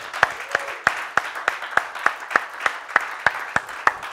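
A church congregation claps in slow, even unison, about three claps per second, steady and moderately distant with a faint murmur underneath.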